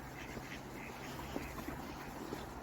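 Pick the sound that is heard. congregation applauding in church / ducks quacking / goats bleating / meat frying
ducks quacking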